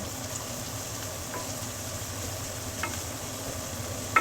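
Steady sizzle from a heated wok on the stove, a continuous hissing fry with faint clinks near the end.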